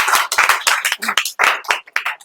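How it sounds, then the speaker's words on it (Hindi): A classroom full of students claps together in a short, loud, uneven burst of hand claps heard up close, lasting only a couple of seconds. "ताली बजाइए।"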